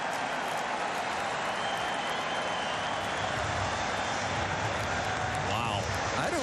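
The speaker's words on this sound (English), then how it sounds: "You can hear the reaction from the crowd" Stadium crowd at a Florida Atlantic vs Nebraska college football game reacting to a catch replay on the big screen, a loud, steady roar of many voices filling the whole stretch, with a commentator talking over it.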